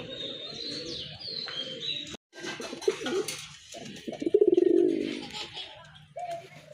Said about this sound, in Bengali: যারা ডাক পছন্দ করেন কবুতরের তারা কিন্তু এই পেটটাও কালেকশনে রাখতে পারেন